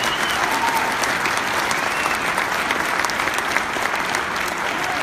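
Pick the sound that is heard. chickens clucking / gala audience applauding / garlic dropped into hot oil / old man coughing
gala audience applauding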